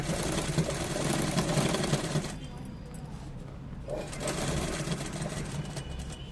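A sewing machine runs steadily while stitching around thick floral embroidery on a designer blouse, loud and close at first, then quieter and slower as the seam eases around a curve, with a voice speaking faintly underneath.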